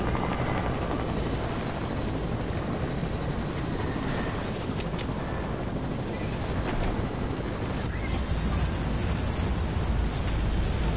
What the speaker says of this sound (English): I've got the chopper.